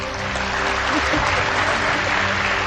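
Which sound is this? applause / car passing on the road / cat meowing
applause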